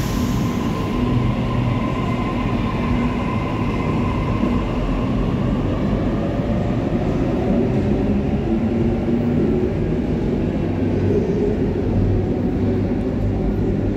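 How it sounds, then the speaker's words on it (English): Sydney B set electric train arriving at platform 2 at Circular Quay: a loud, close, continuous rumble of wheels and motors with a steady low roar and faint high squeal, no talking. "B set arriving on platform 2, and a few ferries departing."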